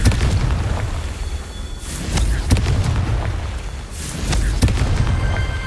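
Confringo fire spell blasts in Hogwarts Legacy, a run of heavy booming explosions that come in bursts, with loud sharp cracks and rumbling roars and no talk over them.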